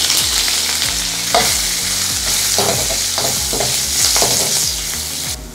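Green chilli, turmeric and curry leaves fry in hot oil in a pan, a loud steady sizzle with repeated scraping stirs in an irregular rhythm, close up with no talking.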